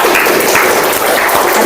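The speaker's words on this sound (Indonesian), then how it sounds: "Tepuk tangan." Classroom applause from students at the end of a lesson, a loud, continuous burst of many hands clapping together without pause.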